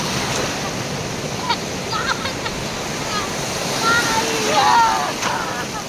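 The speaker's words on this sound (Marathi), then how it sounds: "आली आली लाट आली लाट आली लाट आली लाट आली लाट आली लाट आली लाट आली लाट आली" Sea waves wash onto a beach in a steady broadband roar that swells slightly toward the end. A child repeatedly chants over the surf.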